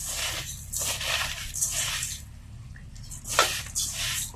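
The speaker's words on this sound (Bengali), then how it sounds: "সব একসাথে মাখা হচ্ছে।" Bare hands mix rice, masoor dal and mung dal together in a wet pot, giving several close, squelchy, sloshing bursts with short pauses between them.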